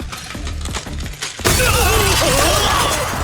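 A glass cell shatters in an anime scene, a sudden loud crash of breaking glass followed by a bright, sustained glittering spray of falling shards, preceded by softer mechanical clicks and rumbling.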